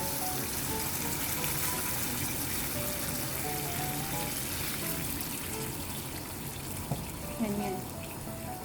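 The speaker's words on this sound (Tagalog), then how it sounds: "Ayan, time to add the tubig." Water pours steadily into a cooking pot of chicken and white bitter gourd soup, a continuous broadband rush at moderate level lasting throughout, with a brief clunk near the end.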